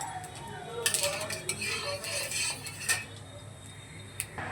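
Black cumin seeds tempering in hot oil for a simple pumpkin and potato curry, a steady soft hiss broken by several sharp metal clinks of utensils against the pan, close and fairly quiet.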